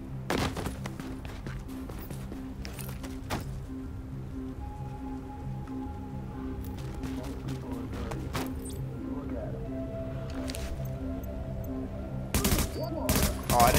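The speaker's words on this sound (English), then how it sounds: "you can just shoot them in the back and they explode" Gunfire in The Division, shooting enemies in the back so they explode, rattles in scattered bursts over a steady droning game soundtrack, with a louder burst of shots near the end.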